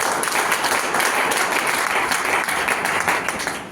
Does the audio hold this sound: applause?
yes